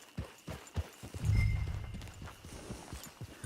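Horse hooves clip-clop at a walking pace in Red Dead Online, an even rhythm of close, soft thuds on the ground, joined briefly by a low snort partway through.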